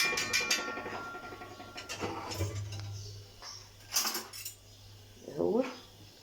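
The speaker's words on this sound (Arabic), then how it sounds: "تجيبي المضرب تضربيه تفكيه من بعضه اهو" Metal whisk clinking and scraping against a pot while beating cooked rice loose for Egyptian rice pudding, several close bright clattering bursts with pauses, and a voice speaking briefly near the end.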